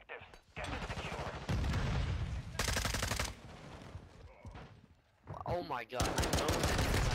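Automatic gunfire bursts loudly through a Modern Warfare II multiplayer match, several rapid volleys with brief gaps between, while a player's voice exclaims over the shooting.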